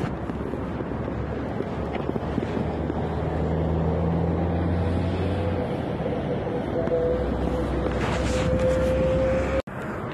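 Strong wind roars steadily across the microphone outdoors, with faint engine-like hum beneath and a brief dropout near the end.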